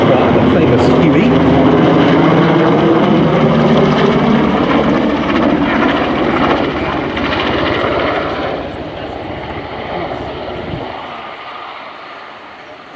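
An NH90 TTH military helicopter performs a flying display at an air show, its loud rotor thump and turbine roar filling the air before gradually fading as it moves away.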